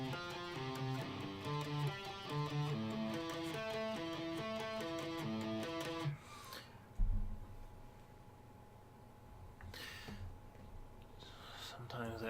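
An electric guitar plays a chugging power chord line for about six seconds, then stops abruptly, followed by quieter room noise and a few brief thumps and scrapes.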